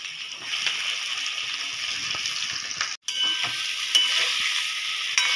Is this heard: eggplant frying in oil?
yes